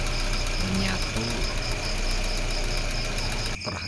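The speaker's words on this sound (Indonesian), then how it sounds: "Kita idle selama kurang lebih 10 menit" A Toyota Camry engine idles steadily after an engine flush treatment, a constant close mechanical hum with faint rhythmic knocking, cut off abruptly near the end.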